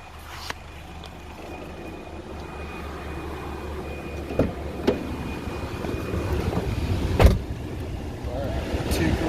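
A 1997–2001 Honda Accord's engine held at a steady raised idle of around 2,000 RPM, a continuous low hum heard from inside the car, with a few faint clicks and knocks and some quiet talk.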